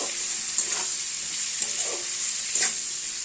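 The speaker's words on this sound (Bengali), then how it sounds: "একটু পেঁয়াজ লাল লাল করে ভাজা হবে" Onions fry in a pan for a home-cooked meat curry, giving a steady bright sizzle with a few louder spatters and stirring scrapes, close and without talk.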